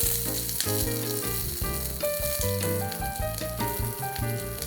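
Red onions or shallots sizzle loudly in hot coconut oil with mustard seeds for a red pumpkin stew, a dense continuous crackle close up, with clinks of a utensil stirring the pan.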